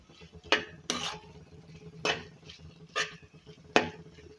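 A spoon scrapes and knocks against a pan while stirring paneer bhurji with coriander, with five distinct metallic clanks spaced irregularly over quiet background.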